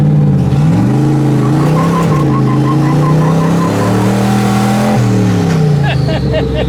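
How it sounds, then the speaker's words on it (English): An old Chevrolet Suburban does a burnout in first gear, its engine revving hard and rising and falling in pitch as the tires break loose, loud and close, with voices under it. "It did a burnout. They never done a burnout. It broke loose."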